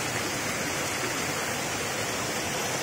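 Caigongkeng waterfall on a mountain stream along a Taiwanese hiking trail pours with a steady, dense rushing hiss, close and unbroken, with no voices.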